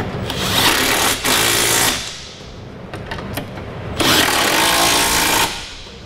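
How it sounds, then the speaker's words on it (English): A power tool tightening trailer hitch fasteners on a 2006 Lexus RX 330, loud close bursts of rattling impact whirring separated by short pauses. "we'll snug down our fasteners"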